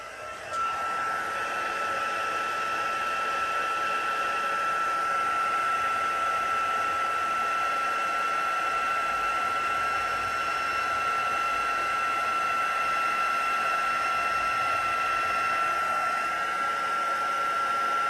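A heat tool blows continuously while embossing powder is set on a handmade card, a steady close whooshing drone with a faint high whine that runs unbroken throughout.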